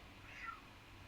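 A single short, faint meow comes from a cat outside a door in a TV show scene, heard quietly and briefly over a low background.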